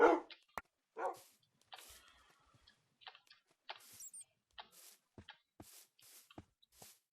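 Minecraft wolves give a scattered series of short, sharp barks at irregular intervals over a quiet game backdrop, with faint clicks between them.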